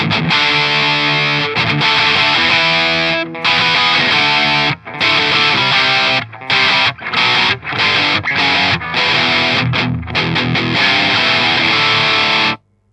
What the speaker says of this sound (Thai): distortion pass อันนี้น่าจะจำลองของพวก FXR นะครับ